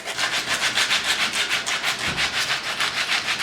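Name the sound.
sanding shoe sole with coarse 60 grit sandpaper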